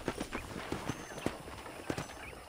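Horse hooves clip-clop at a steady walking pace in the video game Red Dead Redemption. The irregular, soft hoof knocks are fairly quiet and sit over a low background bed.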